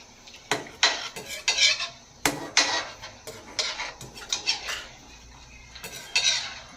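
Chicken liver adobo stirred gently in a pot, a spoon clinking and scraping against the pot in a run of short, close, bright strikes with brief pauses between them.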